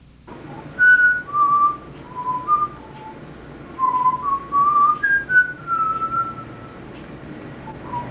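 A composer whistles a melody alone: clear, sustained tones in short phrases of gliding notes, separated by brief pauses, close and moderately loud against a faint background hush.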